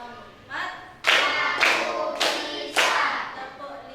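A classroom of children claps together in a counting game, four crisp, evenly spaced bursts of hand claps in quick rhythm, loud and close, with a voice briefly heard before them.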